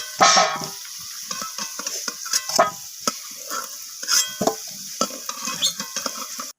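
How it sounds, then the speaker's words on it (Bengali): Potatoes fry in hot oil, with repeated scraping and stirring strokes against the pan in an uneven rhythm, close and fairly loud. "আমি আলুটাকে নাড়াচাড়া করে লালচে করে ভেজে নিচ্ছি"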